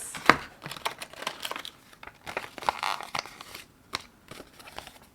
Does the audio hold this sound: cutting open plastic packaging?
yes